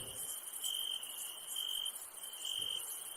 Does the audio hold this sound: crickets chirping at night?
yes